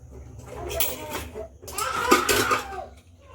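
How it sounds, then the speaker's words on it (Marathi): A pressure cooker lid is unlatched and lifted after cooking ragda, giving two short bursts of metallic clatter and scraping up close in a quiet kitchen. "या ठिकाणी आपण कुकरचं झाकण उघडून पाहूया आपला रगडा कसा झाला आहे तर"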